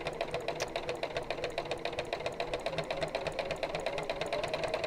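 A sewing machine runs continuously while stitching around a circle at a shortened stitch length, a steady rapid clatter, close and moderately quiet without speech.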